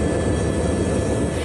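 A gendarmerie helicopter flies over Mayotte the day after Cyclone Chido, its steady broadband engine and rotor roar continuous and loud throughout, with no voices.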